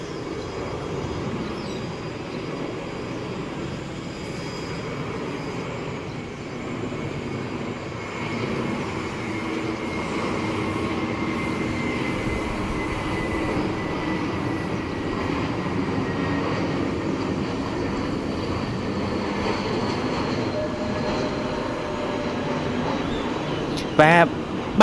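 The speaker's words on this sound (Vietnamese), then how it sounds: "Và bây giờ thì chúng ta đang tới với một chiếc Airbus A320, chiếc máy bay thực hiện chặng bay từ Cao Hùng, Đài Loan về đến sân bay Tân Sơn Nhất" An Airbus A320 from Kaohsiung, Taiwan, landing at Tan Son Nhat airport in Saigon, a long steady jet engine roar that holds near the listener for the whole stretch, with a brief sharp knock at the end.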